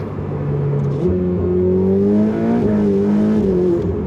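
A Ferrari turbocharged V8 engine revs hard and loud, close by. The pitch climbs steadily, with quick gear changes breaking the rise about a second apart.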